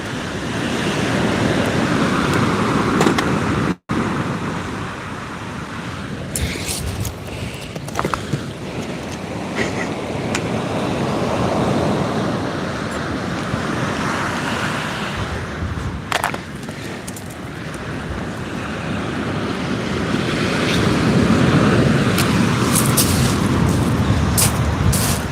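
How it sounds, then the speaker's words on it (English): Strong wind at sea rushing and buffeting across the microphone on a fishing kayak, a continuous roar with surf and water wash beneath, swelling louder toward the end. "The wind's getting up"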